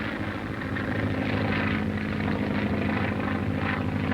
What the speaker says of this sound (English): Boarding laboratory planes, they go aloft to check book learning with practical experience.